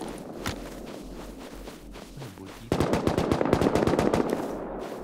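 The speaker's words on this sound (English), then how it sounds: "Berapa orang yang kau dengar punya AK tu, Vash, teman kau tu?" AK rifles fire in the survival video game Rust, with footsteps running beneath. Rapid automatic bursts break out partway through and crack repeatedly and loudly, after lighter steps and scattered shots at the start. Nobody talks.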